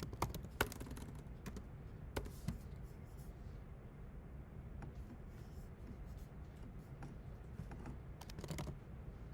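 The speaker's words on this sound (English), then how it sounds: "I'm typing upside down." Typing on a computer keyboard during a class session, soft and fairly faint keystrokes coming in irregular bursts and scattered clicks, with no talk over them.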